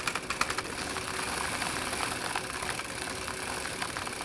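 A bike chain cleaner tool runs along the chain during back pedalling, giving a steady whirring, buzzing rattle with a few quick ticks at the start, close and continuous.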